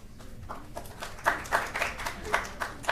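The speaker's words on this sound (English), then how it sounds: "Look at that, you got a round of applause and everything." A small round of applause at a Union County freeholder meeting in Linden, made of scattered hand claps from a modest room that pick up partway through and stay uneven.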